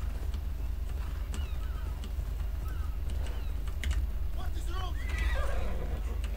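In the video game Assassin's Creed Odyssey, a horse neighs and whinnies over clip-clopping hooves, with bird calls and game ambience around it and someone talking throughout.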